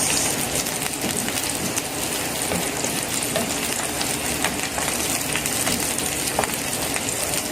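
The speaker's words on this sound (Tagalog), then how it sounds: "lulutuin lang natin ang ating sibuyas" Onions sautéing in a pan for chicken curry with coconut milk, a steady close crackling sizzle with constant hiss and small pops throughout, no speech.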